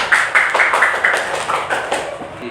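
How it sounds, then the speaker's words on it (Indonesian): A fifth-grade class claps together in a quick, rhythmic run of sharp, bright claps that are close and fairly loud, fading slightly toward the end. "Terima kasih, tepuk tangan"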